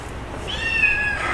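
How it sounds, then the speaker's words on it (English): A black-and-white medium-haired domestic kitten lets out a faint, drawn-out meow partway through, over a steady background hiss, with no one talking. "black with white sable type domestic medium hair kitten"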